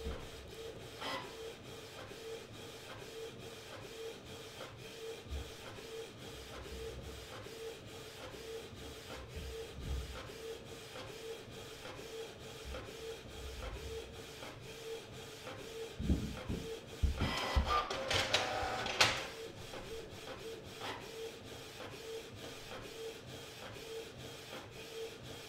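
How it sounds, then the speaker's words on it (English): A Canon Pixma TS3420 printer runs through a print job with a steady mechanical whir and rhythmic feed ticks, rising into a louder grinding rasp of paper movement before settling back to a quieter hum. "you're gonna press on the print button and the printer will start printing"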